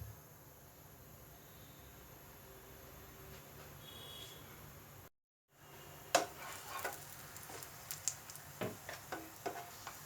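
Chapati dropped into hot vegetable oil in a pan for an egg roll, starting with a steady low hiss and then breaking into scattered crackles and pops of frying after a brief silent cut.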